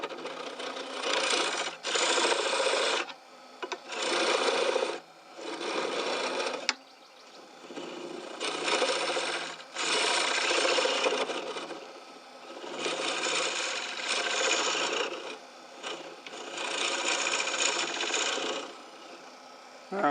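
A scraper cuts out the centre of a wooden bowl on a woodturning lathe, giving loud, steady rasping and scraping in repeated bursts of a few seconds each, with short pauses between passes and no talk.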